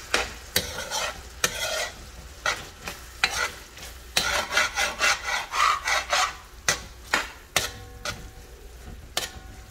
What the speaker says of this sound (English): you got that coconut oil that's gonna saute up these seasonings as well as some of that cream